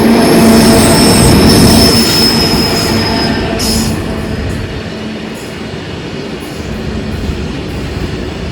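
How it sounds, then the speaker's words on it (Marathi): A very long freight train of around 100 or more wagons passes very close in hilly country, loud rumbling rail noise with squealing wheels and clattering cars, easing slightly toward the end. "आपल्या डोंगरातली सगळ्यात मोठी रेल्वे आलेली आहे आणि आज मी रेल्वेच्या खूप जवळ थांबलोय."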